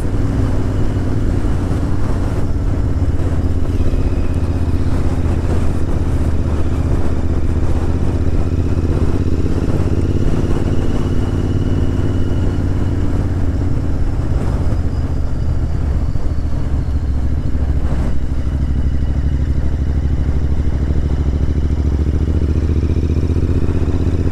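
A Royal Enfield Interceptor 650 being ridden through traffic, its parallel-twin engine droning loud and continuous at close range with wind rush and road noise throughout.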